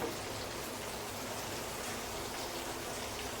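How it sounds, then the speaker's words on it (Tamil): Heavy rain pours outside in Chennai, a steady, dense hiss of falling water that holds at an even level throughout, with no voices over it. "சூப்பராக மழை பெய்யுது வெளியே சென்னையில்"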